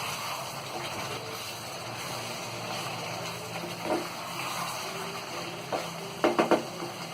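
Mutton kofta curry in a pot on the stove bubbles and sizzles steadily while a spoon stirs it, with a few louder scraping strokes against the pot near the end.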